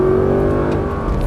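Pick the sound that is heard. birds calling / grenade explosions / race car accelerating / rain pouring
race car accelerating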